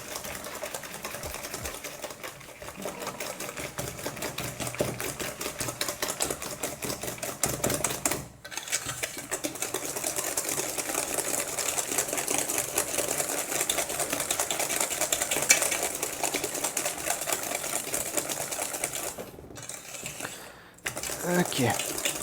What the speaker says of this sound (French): Là on peut fouetter, histoire de bien incorporer les œufs.